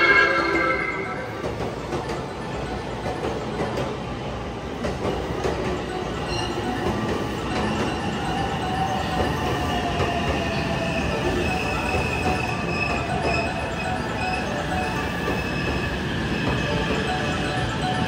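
A JR West rapid train rolls into platform 15 at Tennoji Station with a broad metallic rumble and squealing wheels, steady and fairly close, with ambient platform noise throughout.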